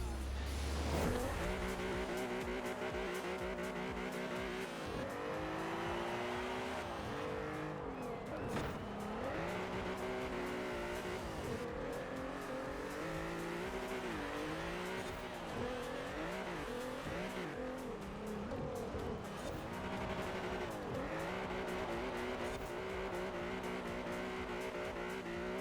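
Volkswagen GTI lapping the Lakehurst track in a racing video game, its engine droning continuously with shifting pitch sweeps as it accelerates and brakes, with occasional tire squeal, loud and steady throughout with no talking.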